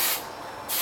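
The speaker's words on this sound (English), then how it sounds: "What I'll do often is give the base a little spray." Hairspray hisses onto the teased base of a hairdo in one short, steady burst of about half a second, close and clear with no talking.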